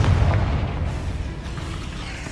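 A Confringo spell blast from Hogwarts Legacy lands as a deep, rumbling boom that swells at once and slowly decays into a broad roar, loud and close.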